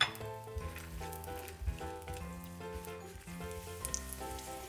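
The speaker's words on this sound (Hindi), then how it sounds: "इसी पैन में हम थोड़ी सी किशमिश डाल देंगे और उसे भी भून लेंगे" Raisins roast in a hot pan after dried fruits with a soft, steady sizzle that runs throughout, partly masked by louder background music.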